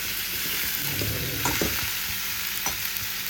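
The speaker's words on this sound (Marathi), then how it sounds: "हे सगळे आपण त्यात घालणार आणि ते व्यवस्थित छान परतून ढवळून असं चांगलं घेणार" Finely chopped snake gourd sautés and is stirred in a hot pan, making a constant hiss under a few clinks and scrapes of a spoon, heard close with no talking.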